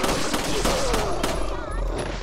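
Handgun shots ring out in the video game Resident Evil 4, several sharp reports spaced across a couple of seconds over a busy in-game background with a voice briefly audible.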